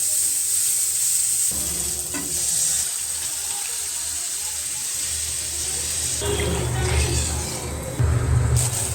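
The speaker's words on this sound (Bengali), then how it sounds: "এইদিকে মাছের মাথা ভাজা হচ্ছে" Fish heads frying in hot oil in a home kitchen, a steady close sizzle running throughout, with bursts of louder crackling near the end and faint clatter in the background.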